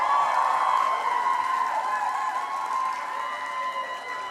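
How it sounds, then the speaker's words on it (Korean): Audience applause fills the room at a one-night seminar as a franchise owner steps up to lecture: dense, steady clapping mixed with some crowd noise, loud and continuous, fading only slightly toward the end. "박수를 정말 환하게 맞이해 주셔서 감사합니다"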